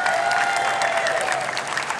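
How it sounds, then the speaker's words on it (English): A crowd at the Walk to End Alzheimer's event in Muskegon applauds its national presenting sponsor, with steady close clapping and a faint sustained whistle-like tone that holds for two seconds. "so give them a round of applause"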